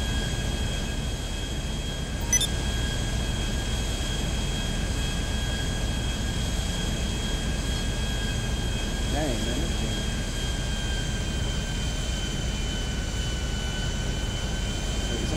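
An airplane engine in Grand Theft Auto Online drones steadily with a constant high whine over a broad roar, under a faint voice near the middle.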